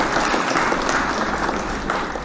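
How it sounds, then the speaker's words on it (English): Applause sound effect played during a live news and talk show, a dense, steady burst of clapping that stays loud and even throughout. "Hit the claps for Marissa."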